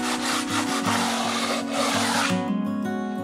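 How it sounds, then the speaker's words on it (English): A wooden sanding block rubs along the fiberglass fairing edge of an RV-12iS aircraft tail, quick close back-and-forth scraping strokes in an even rhythm. "Now to make a nice straight edge with the wooden block."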